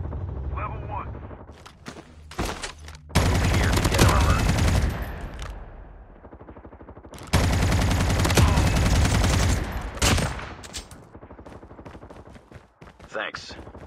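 Heavy automatic gunfire in a Call of Duty Mobile Battle Royale match on Alcatraz, two long loud sustained bursts of rapid shots with shorter pops between, a voice speaking briefly at the edges.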